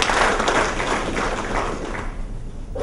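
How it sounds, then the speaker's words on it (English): Audience applause at an inaugural address by a director general, a dense sustained wash of clapping hands that stays loud and even before tapering slightly toward the end. "A special round of applause to our partners from the West and the University."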